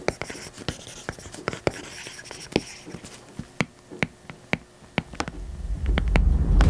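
Stylus tapping and scratching across an iPad screen fitted with a Paperlike matte protector, a close, irregular run of sharp ticks and short strokes, ending in a rising rustle.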